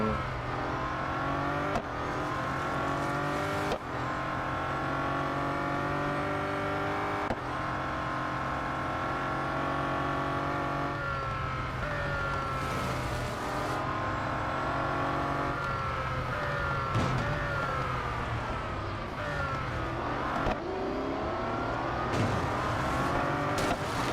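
Bugatti Centodieci engine roaring through a race in Real Racing 3, pitch rising and falling repeatedly with sharp gear-shift breaks and occasional tire squeal, continuous and up close.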